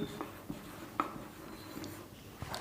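Faint scratching of a pen writing a sentence by hand on paper, soft irregular strokes and light taps close by, quiet and without talking.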